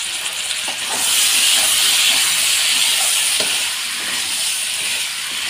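Water poured into a hot pan of vegetables (ridge gourd, pointed gourd, Malabar spinach, ripe banana) for a Bengali curry, producing a loud, steady sizzling hiss that swells briefly and then holds, close up and alone.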